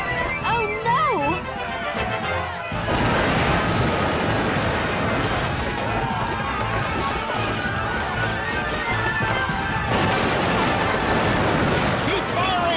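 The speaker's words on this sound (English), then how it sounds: "Keep firing!" Animated battle at the North Bridge with volleys of musket gunfire crackling throughout, dense and continuous after a brief opening, layered with shouting voices and a busy score.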